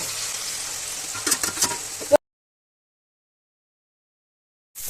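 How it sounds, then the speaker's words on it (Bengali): Steady frying sizzle of onion paste in a pan for about two seconds, with a few stirring scrapes, then silence before the sizzle briefly resumes. "ভাজা ভাজা হয়ে গেছে, পেঁয়াজ থেকে কাঁচা গন্ধটাও চলে গেছে।"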